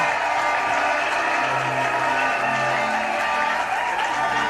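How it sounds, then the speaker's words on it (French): Steady applause from a crowd, loud and continuous throughout, with faint voices and a few cheers mixed into the dense clapping. "Acclamons encore très très fort"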